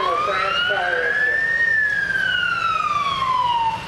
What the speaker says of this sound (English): Pella's first piece of motorized fire equipment, the 1922 American LaFrance fire engine.